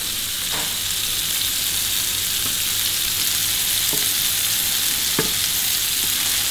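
Beef burger patties fry in butter in a pan, giving a loud, steady, close-up sizzle with a few faint knocks or scrapes scattered through it.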